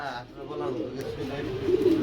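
Pigeons coo in low, rolling murmurs close by, with soft overlapping calls.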